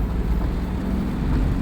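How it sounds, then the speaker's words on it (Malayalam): Steady outdoor wind rushing past the microphone beside a flooded river during the monsoon in Puthuppally, Kottayam, Kerala, a continuous broadband roar with low rumble and no talk. "നല്ല കാറ്റുണ്ട്."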